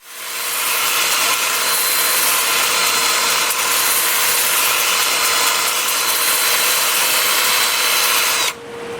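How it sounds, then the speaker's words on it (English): A steady, loud abrasive hiss of sandpaper against an olive wood dish spinning on a lathe, broadband and continuous, stopping abruptly near the end. "Time for sanding."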